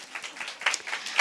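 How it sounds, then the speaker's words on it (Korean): A church congregation claps during an afternoon worship service, with a short, moderately loud patter of many hands close by and no voices on top. "우리 석진이한테 박수 한번 쳐줍시다."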